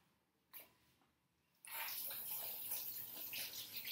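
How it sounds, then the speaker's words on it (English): After a brief splash, a kitchen tap is turned on and water gushes steadily into the sink, close and moderately loud. "Love the sound of water running"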